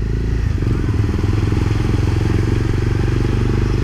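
A Honda CBR300R motorcycle ridden through deep floodwater during a storm, its engine droning loud and close in a steady rumbling pulse, with water sloshing and churning around it.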